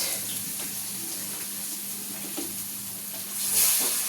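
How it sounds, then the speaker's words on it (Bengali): Brikett fish fry in a pan outdoors under a cloudy sky, giving a steady, moderate hiss of oil that swells briefly near the end. "মাছ রান্না করছি। এটা হচ্ছে ব্রিকেট মাছ"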